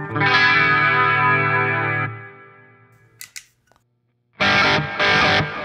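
A sustained clean electric guitar chord rings out and fades, followed by a couple of sharp clicks and two short bursts of strummed guitar.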